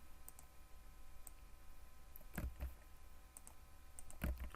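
Several sharp mouse clicks at a computer, sparse and irregular over a quiet steady hum, with a couple of louder double clicks standing out near the end.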